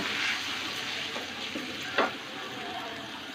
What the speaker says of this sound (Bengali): মশলাটা কষিয়ে নেব।